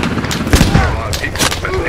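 Gunfire in a squad shooter video game, loud bursts and booming shots in irregular clusters close by, with an enemy tank nearby, under voices talking.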